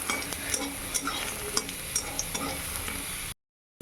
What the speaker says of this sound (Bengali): বড়িটা ভেজে তুলে নিই তারপর সবজিগুলো ভাজবো